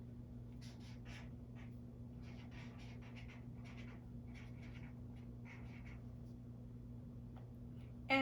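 A pen scratches a word onto paper in quick, faint strokes, short bursts spaced through a quiet room with a steady low hum underneath.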